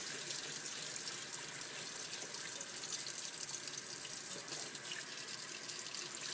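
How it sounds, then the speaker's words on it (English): Tap water runs in a steady, unbroken stream into a sink as rice is rinsed, a constant close splashing hiss with no pauses. "Let enough water come out."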